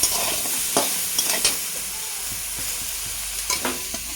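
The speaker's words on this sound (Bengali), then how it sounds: "আমি এটা একটু হালকা তেল দিয়ে ভেজে নিয়েছি সবজিটা আমি এখন তুলে নেব" Vegetables for a mixed-vegetable dish stirred in a pan after shallow frying in a little oil, with a soft continuous sizzle and scattered scraping clinks of the spatula against the pan.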